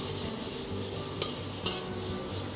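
Food stir-fried in a wok, with a steady close sizzle and scraping stirs and occasional clinks of utensils throughout.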